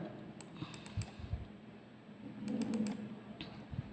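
Computer mouse clicks at a desk, a few sharp isolated clicks with a quick cluster in the middle, close and fairly quiet over faint room hum.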